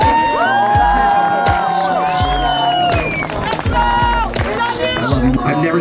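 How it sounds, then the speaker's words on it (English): Crowd at a season-opener event cheers and claps, with whoops and shouts over loud music or voices, a dense, noisy mix close by. "Can we all give Angelo a round of applause?"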